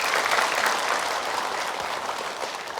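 Audience applause at an Indonesian studio talk show, steady dense clapping from a crowd that fills the whole stretch at an even level with no voices over it.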